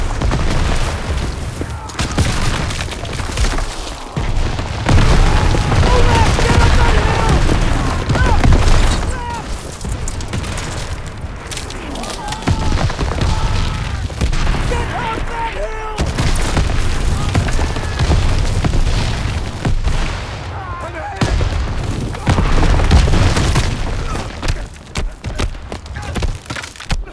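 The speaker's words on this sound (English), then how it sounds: "Artillery down zero!" Artillery shells burst in Call of Duty: WWII during a Hürtgen Forest, Germany, 1944 battle, with repeated heavy booms and rumbling blasts over sustained battle noise, while soldiers' voices shout throughout.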